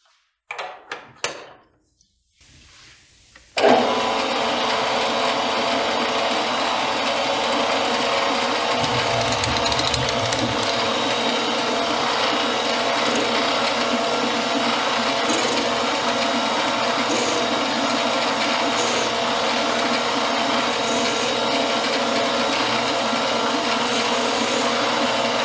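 Metal lathe turning down the flange of a camera cage screw, a steady loud machining whir and hiss running continuously after a few brief clicks and knocks at the start, with no talking.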